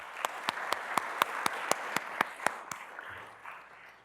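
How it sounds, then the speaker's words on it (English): A council meeting audience gives a round of applause, with about a dozen distinct loud claps in steady rhythm fading gently toward the end. "please join me in a round of applause"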